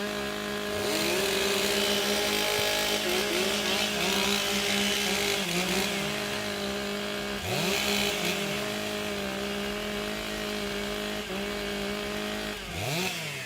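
Several chainsaws idle and rev in bursts at a timbersports competition heat, engines whining up and down continuously and loudly, with repeated throttle blips and pitch sweeps over a steady outdoor crowd background.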